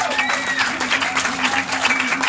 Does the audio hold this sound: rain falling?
no